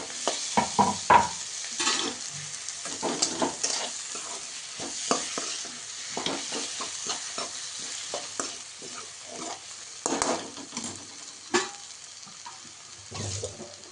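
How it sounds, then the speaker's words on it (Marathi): Small chopped tomatoes frying in a pan with spices give a soft sizzle under frequent scraping and clattering stirs, the spoon tapping the pan in irregular bursts throughout. "याच्यामध्ये थोडंसं छोटे छोटे असे 2 टोमॅटो चिरून टाकले."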